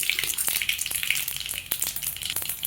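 Mustard seeds, chana dal and urad dal frying in hot oil for coconut rice, a loud, close, continuous sizzle with scattered popping crackles and a few stirring scrapes.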